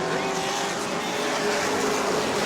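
Race cars at a weekly short-track event accelerating off a green-flag start, a dense, steady engine roar heard from a distance, with an announcer's voice mixed in.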